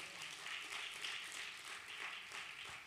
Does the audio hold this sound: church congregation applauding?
yes